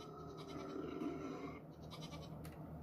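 Goat bleating in the Garry's Mod video game, a steady, fairly quiet bleat sustained over a constant game hum with no talking.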